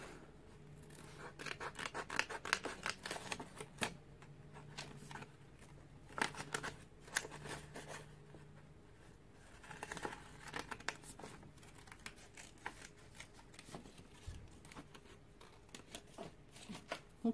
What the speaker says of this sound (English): It's easier to cut curvy things with nail scissors.